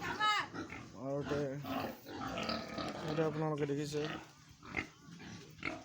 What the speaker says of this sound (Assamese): এয়া গাহৰি